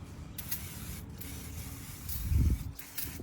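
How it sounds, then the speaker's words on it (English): Brake cleaner sprayed onto a car's freshly fitted brake caliper, pads and rotor: a close, steady aerosol hiss running throughout with a few short breaks and a brief louder burst near the end. "we're gonna go ahead and hit it with some brake clean"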